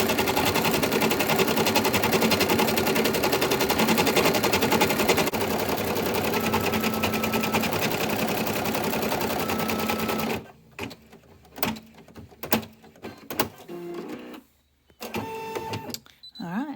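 An embroidery machine sews a tatami reinforcing stitch on a Christmas banner, running as a loud, continuous rapid needle chatter for about ten seconds, then stopping, followed by scattered clicks and short bursts of movement.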